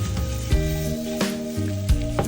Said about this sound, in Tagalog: So ayan na, next natin guys, yan, magigisa na tayo.